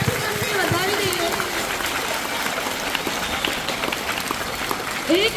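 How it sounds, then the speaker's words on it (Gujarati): Applause from a village crowd at an Independence Day celebration in Bhilvan, Saraswati taluka, a dense patter of clapping throughout, fairly close, with voices talking over it. "જોરદાર દાદાશ્રી માટે એકવાર તાળીઓના ગડગડાટથી તમને વધાવી દઈએ"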